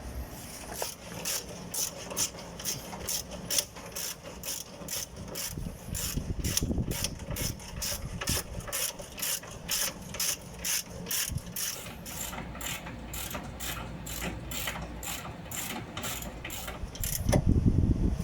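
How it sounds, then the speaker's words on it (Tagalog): A ratchet wrench clicks in a steady, rapid rhythm, tightening a bolt at the front of a Honda CR-V suspension near the sway bar bushing, close and continuous with brief pauses and metallic handling. "So, ang kakabit naman natin yung tornilyo dito sa may harapan."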